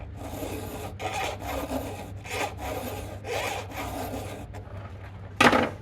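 A square file rasps across a workpiece in about five even back-and-forth strokes, close and clear, each stroke a gritty scraping burst, ending with one sharper, louder scrape.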